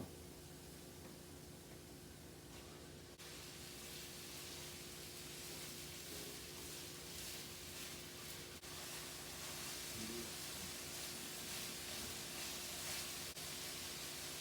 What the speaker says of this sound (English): I'm going to go ahead and throw in the mushrooms.